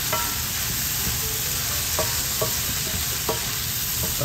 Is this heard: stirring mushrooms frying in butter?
yes